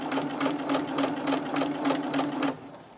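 A sewing machine stitching forward and backward on fabric for a scrunchie, a close, steady rapid whirring run of stitches in short pulses for about two and a half seconds, then stopping.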